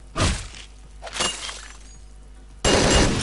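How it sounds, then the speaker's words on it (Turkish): Glass window shot out and shattering in the video game Hotline Miami 2: sharp breaking crashes at the start and middle, then a louder, sustained burst of shattering at the end. "Abi camdan vurdu camdan vurdu."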